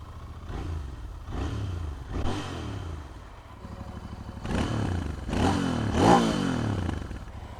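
A Royal Enfield Interceptor 650 engine fires up with a clattering start, then runs and blips the throttle in several rising revs, close and fairly loud, with no talk over it.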